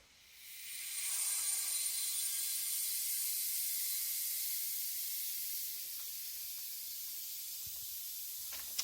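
Air rushes through an opened valve into a resin infusion vacuum setup, a steady loud hiss starting about a second in and holding, easing slightly before the end, no talk over it.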